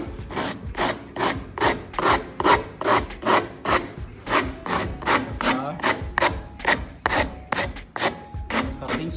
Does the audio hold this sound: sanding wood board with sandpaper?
yes